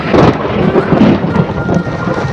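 A loud, close unseasonal thunderstorm: low rolling thunder rumbles continuously over a wash of rain and wind.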